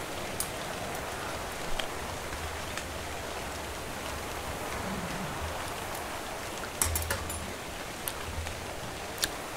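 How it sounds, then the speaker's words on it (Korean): Steady rain patters in the game Ark: Survival of the Fittest, a faint, even hiss of acid rainfall with scattered drop ticks and no talking. "산성비가 와도 헬스가 안 딴다는 거"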